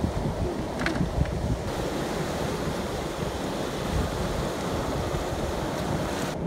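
Sea waves break on the shore in a continuous, loud roar of surf, with strong wind buffeting the microphone the whole time.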